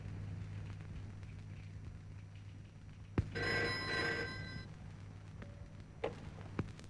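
Telephone ringing in a Malayalam movie scene: a sharp click, then one long electronic ring with a bright, tonal quality, followed by a few softer clicks and knocks, over a steady low hum.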